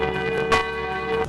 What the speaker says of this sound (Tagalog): Ang antigo pero makapangyarihang tunog ng mga kampana, boses ng pagpapaalala.